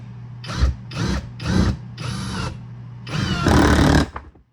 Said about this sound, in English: let's try this thing out. Got a bunch of these screws and a board.